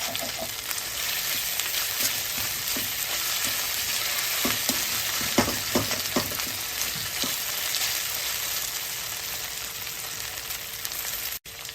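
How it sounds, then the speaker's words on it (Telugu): Green chillies with ginger-garlic paste sizzle steadily in hot oil for a chicken fry, with intermittent scraping and clacking of a stirring spoon against the pan throughout; no one speaks. "అల్లం వెల్లుల్లి అడుగు అంటుతుంది అది అడుగంటకుండా ఇలా కలుపుతూనే ఉండాలి నూనె తేలేంత వరకు"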